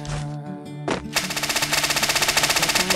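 Rapid bursts of automatic gunfire in a video game start after about a second and keep a steady, fast rhythm to the end, loud and close, with a low background hum and no talking.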